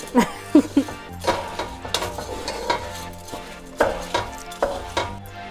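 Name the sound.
stirring rice in ham oil in a pan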